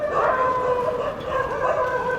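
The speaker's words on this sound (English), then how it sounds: "we're walking towards the pack of angry dogs" A pack of angry dogs on a street at night barks and howls together, a loud, overlapping chorus of yelps and drawn-out wails close by.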